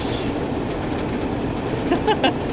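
A train runs in Train Sim World 2 with a continuous rumble and brief wheel squeals near the end, steady and moderately loud.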